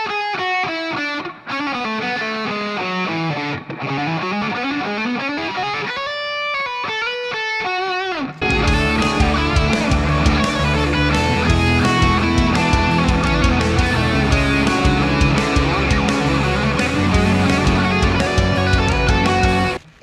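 Electric guitar playing a diatonic melodic lead run in a major key, with clear single notes moving down and then back up, then a louder, denser distorted passage joins in and plays steadily to the end.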